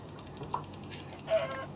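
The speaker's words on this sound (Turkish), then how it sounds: "Tavuk." A chicken in the video game Minecraft gives a few short, fairly faint clucks over a soft background of repeated ticking game sounds.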